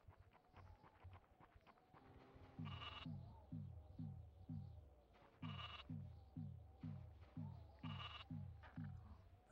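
A goat bleating in the video game E.T. Interplanetary Mission: a run of short, evenly spaced synthetic bleats that repeat in a steady rhythm over soft game sounds, with no one talking.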